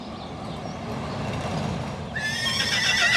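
A horse being schooled for calmer gaits lets out a loud whinny near the end, over a steady rumbling background of movement.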